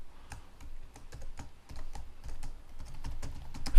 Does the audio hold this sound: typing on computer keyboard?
yes